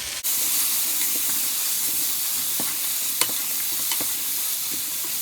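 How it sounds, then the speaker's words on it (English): Carrots and potatoes searing in a pan for vegan corn chowder, a steady close sizzle with occasional faint stirring clicks. "at this point I have kind of seared some of the carrots and the potatoes"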